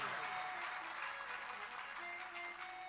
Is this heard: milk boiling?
no